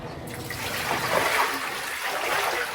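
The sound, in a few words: water being poured out of a washing basin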